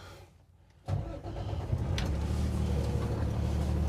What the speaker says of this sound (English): I'm gonna start this truck.